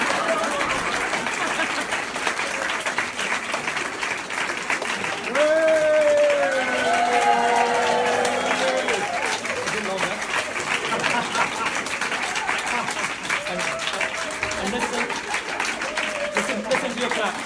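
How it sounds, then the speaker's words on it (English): Sustained applause from a conference audience after a keynote speech, steady clapping from many hands with a voice speaking over it partway through and scattered chatter in the room. "Can you hear the clapping?"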